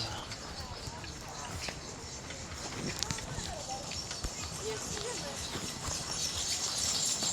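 Horse hooves clip-clop along a road on Gili T island in Indonesia, a steady light trotting patter with ambient street noise and occasional voices.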